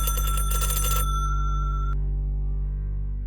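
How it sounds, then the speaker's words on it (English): A 1980s push-button wall telephone with a long cord gives a mechanical bell ring in an empty kitchen, a loud rattling burst of about a second, then a ringing tone that lingers and cuts off. "The phone rang while I was photographing the sink."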